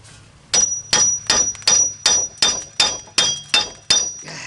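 Metal hammer strikes driving a wheel bearing into the hub of a 2014 Chrysler Town and Country, with an axle being pulled during the blows: eight loud, evenly spaced clanging hits with ringing metallic overtones, close up and without talk.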